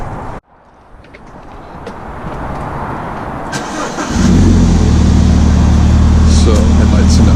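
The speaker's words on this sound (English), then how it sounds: "Let's turn the car on." A BMW 1 Series car engine cranks over and catches, settling into a loud, steady idle close by after a few seconds of rising whir.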